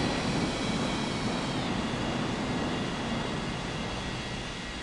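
Jet airliner rolling for takeoff on runway 09 in the Unmatched Air Traffic Control game, a steady broadband engine roar that holds loud and even throughout, slowly easing slightly toward the end, with no talk.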